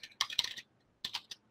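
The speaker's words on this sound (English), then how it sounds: "I can subset the data by typing it in the filter." Fingers type on a computer keyboard during a PowerShell filtering demo: a few quick, quiet clicks in two short bursts, close and soft.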